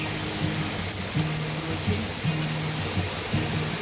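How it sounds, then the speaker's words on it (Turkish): Waterfall at a campsite, a steady broadband rush of falling water heard at moderate distance, with faint intermittent low hums and a few small clicks over it and no talk. "Şelale var."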